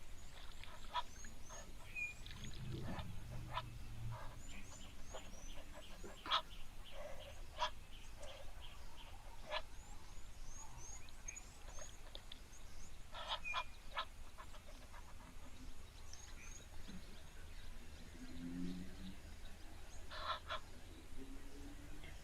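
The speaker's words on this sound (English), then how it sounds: "The male makes a lot more noise than a female Egyptian goose." Repeated harsh honking calls from Egyptian geese, some distant and some nearer, scattered irregularly over a low background hum at a waterhole.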